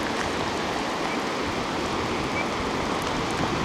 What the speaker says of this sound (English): I say it's still raining quite hard